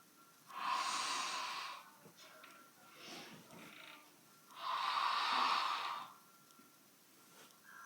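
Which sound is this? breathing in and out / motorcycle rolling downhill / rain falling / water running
breathing in and out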